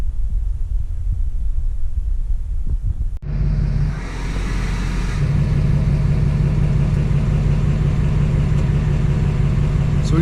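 A Duramax diesel engine in a 1999-2006 Silverado/Sierra pickup idles inside a garage. The clip starts near-quiet, then a loud, steady low diesel rumble fills it from about three seconds on.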